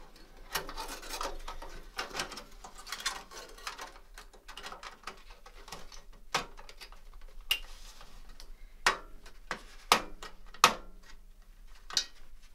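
A PC motherboard I/O shield is pushed and clipped into a gaming computer case, producing faint rubbing followed by a series of sharp, close plastic-and-metal clicks and ticks that grow more distinct toward the end, with no talking.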